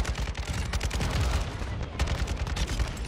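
Rapid bursts of gunfire in Call of Duty Modern Warfare 2 multiplayer, with dense repeated cracks in quick automatic strings running throughout at moderate loudness.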